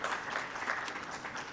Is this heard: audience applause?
yes